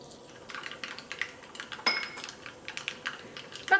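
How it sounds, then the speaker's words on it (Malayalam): Mustard seeds pop and splutter in hot coconut oil in a pan, with scattered small crackles and sharp ticks coming close and moderately loud, one sharper snap midway and no talking. "ഈ ചൂടായ വെളിച്ചെണ്ണയിലേക്ക് കടുകിട്ട് പൊട്ടിക്കുക."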